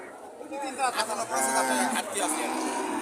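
Bullocks at a busy cattle market low in long, drawn-out moos, several overlapping calls close by, with people chatting faintly underneath.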